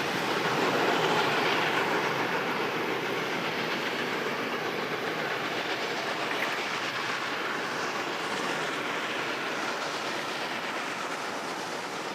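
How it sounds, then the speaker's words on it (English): A steady, heavy rumble of a Garratt steam locomotive laboring up a 1-in-40 gradient in South Africa, broadband and continuous, slowly fading slightly with no distinct chuffs standing out. "our loco hits the 1 in 40 climb to the next summit at Schimmelkrantz"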